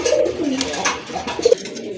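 Domestic pigeons cooing close by, a few soft throaty coos with brief pauses and no voices.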